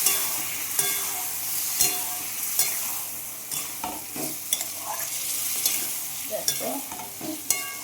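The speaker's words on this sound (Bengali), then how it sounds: "আলুগুলোকে এর সঙ্গে কষিয়ে দেবো।" Potatoes and green peas are stirred and sautéed in a pan of hot oil for aloo dum, giving a steady sizzle broken by scraping spatula strokes. The sound is close, and one brief word is spoken.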